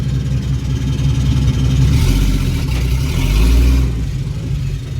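A ZIL-130 truck engine runs steadily while driving across a field during harvest, a loud continuous low rumble that swells slightly as it pushes on, with no voices over it.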